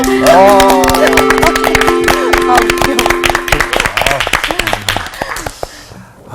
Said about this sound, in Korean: 교실에 들어올 때마다 이렇게 박수를 쳐주니까